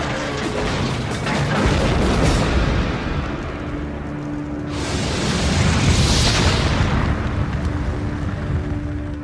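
A huge warship explosion as a battleship's ammunition magazine detonates some 300 tons of shells: a continuous loud, deep roaring rumble that swells again midway into a second heavy blast and keeps thundering throughout.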